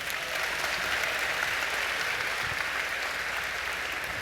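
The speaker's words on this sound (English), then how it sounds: "Give yourselves a round of applause." School district staff at a 2024 convocation applaud themselves in a large hall, sustaining a dense, even wash of clapping for over four seconds with no pauses.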